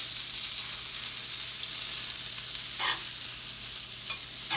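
Chicken fried steak frying in oil in a pan, heat being turned down, gives a loud continuous sizzle and crackle with a couple of brief sharper bursts, no talking.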